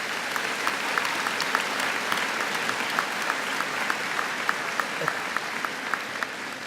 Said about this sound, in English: they deserve a special round of applause